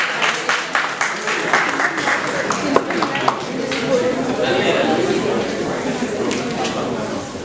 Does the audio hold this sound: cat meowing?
no